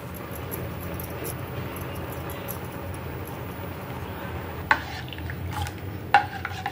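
Rasam powder, a fresh Udupi rasam masala, being stirred into simmering rasam in a pot, a steady soft background wash broken by two sharp spoon-against-pot clinks near the end.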